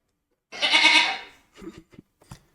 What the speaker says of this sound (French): Je cherchais un bruit de chèvre